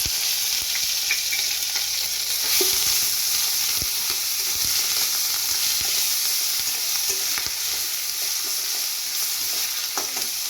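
Grated ginger, garlic, onion and green chili fry in a pan with a steady, close sizzle, broken by occasional soft clicks of stirring throughout.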